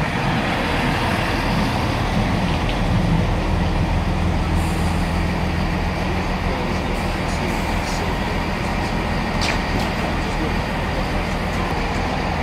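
A Class 165 diesel multiple unit at Warwick station on a Leamington Spa service, its engine rumble steady and close throughout, with low droning tones and continuous rail and platform noise.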